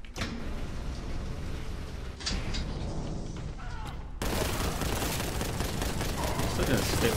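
Bolter gunfire in the shooter game Warhammer 40,000: Boltgun, a dense continuous barrage of heavy shots and booms filling the whole stretch, growing louder and harsher after a brief lull partway through.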